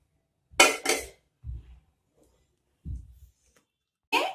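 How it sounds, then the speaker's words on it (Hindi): Hakka noodles are tipped from a pan into a serving dish, with a few separate clinks and scrapes of metal against crockery, close and crisp, spaced out by silent gaps. "अब एक सर्विंग डिश लेंगे और उसमें नूडल्स को उलट देंगे।"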